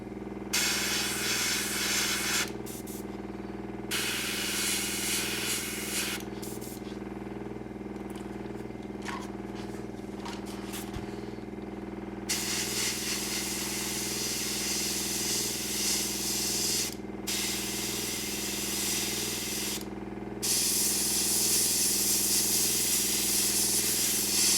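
An old air compressor labors with a low, steady throbbing hum while an airbrush sprays model paint in bursts of bright hiss that start and stop repeatedly over the drone.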